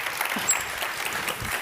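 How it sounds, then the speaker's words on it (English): Steady audience applause at a business talk, continuous close clapping filling the whole short moment without pause. "We can't have enough applause. Let's give one last before we start."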